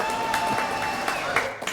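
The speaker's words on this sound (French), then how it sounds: "Applaudissements pour Pascal" A studio audience claps for a guest named Pascal on a French talk show, a short burst of applause with a few sharper individual claps, heard alongside a bit of talk and background tone.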